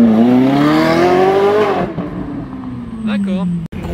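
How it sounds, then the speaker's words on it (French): A Ferrari 458 with sport exhaust revving hard and accelerating past in the street, a loud rising wail that peaks and then drops away as it passes, with people talking. "Il y a 458 qui arrivait comme une balle là-bas."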